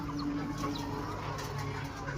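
Desi chickens cluck on a chicken farm in a shed built with cement pillars, wood and bamboo, a low continuous murmur of clucking that is fairly distant and steady.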